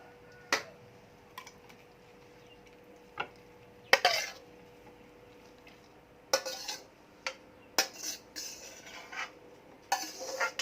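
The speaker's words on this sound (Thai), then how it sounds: "ตัก ใส่จาน" Glass noodle salad is scooped onto a plate in a home kitchen, with scattered sharp clinks and taps of a utensil against dishes, separated by quiet gaps and no talk.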